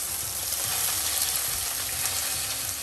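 Onions roasting in a pan for Kolhapuri tarri misal give a steady, close sizzle and crackle with faint stirring, continuous and fairly loud throughout, with no talking.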